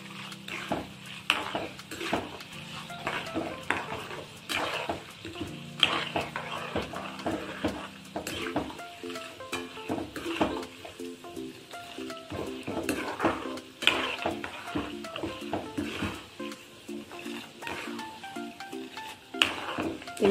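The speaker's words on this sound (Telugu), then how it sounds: "ఇప్పుడు సాయమినపప్పు, జీలకర్ర, ఆవాలు వేసేస్తున్నాను" Urad dal, cumin and mustard seeds fry in hot oil as a tempering for lemon and mango rice, with steady sizzling and crackling broken by frequent scraping and stirring of a utensil against the pan.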